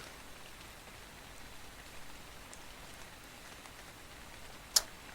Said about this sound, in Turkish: Yağmur başladı.